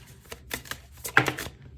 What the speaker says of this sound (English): I'm gonna shuffle again